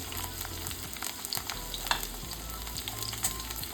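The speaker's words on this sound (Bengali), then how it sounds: "পেঁপেটাকে এবার আমি ভেজে নেব হালকা" Strips of papaya, cut lengthwise, fry lightly in oil in a pan with sweet potato already in it, giving a soft, steady sizzle with occasional stirring scrapes, quiet and continuous with no talking.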